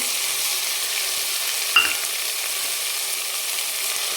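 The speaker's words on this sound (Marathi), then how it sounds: "दोन मिनिट आपल्याला त्याला पण छान परतून घ्यायचं चांगलं तेल आणि मसाला वेगळा झाला पाहिजे कंटिन्यू आपल्याला ढवळत राहायचं याला" Masala paste for mutton curry fries in oil, an even close sizzle with one brief clack of the spoon as it is stirred.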